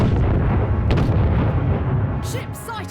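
Cannon fire in the space naval strategy game Treasure Planet: Battle at Procyon, a dense rumbling barrage of booming shots with loud low-end impacts that trail off slightly near the end.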